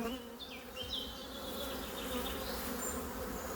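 Honeybees at hives swarming in a dense, steady buzz close by, a few individual bees droning past at higher pitch over the constant hum.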